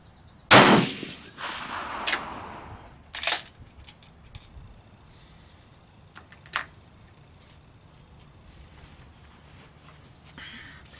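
Rifle shots from a Steyr using new handloaded rounds at an outdoor range: a couple of loud sharp reports spaced seconds apart, followed by fainter clicks and handling noises.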